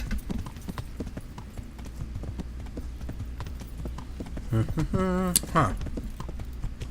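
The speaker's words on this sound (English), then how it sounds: "Clop, clop, clop, clop, clop," Horse hooves clip-clop steadily in the video game Kingdom Come Deliverance, a quick even rhythm with a brief whinny-like sound near the end, while someone speaks briefly over it.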